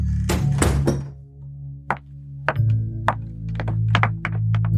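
A farmhouse front door is shut as someone steps out, a dull wooden thunk followed by a run of lighter knocks and taps over a low steady hum.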